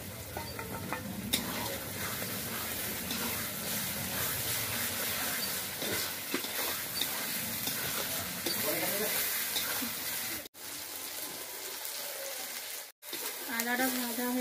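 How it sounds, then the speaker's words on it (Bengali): Ginger fries in a pan of oil with chillies and garlic, giving a steady close sizzle with stirring scrapes throughout and two short pauses toward the end. "লঙ্কাটা ভাজা হয়ে এসেছে, এখন আদাটা দিয়ে দিচ্ছি।"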